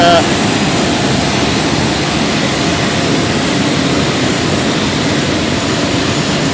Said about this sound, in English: It's a military aircraft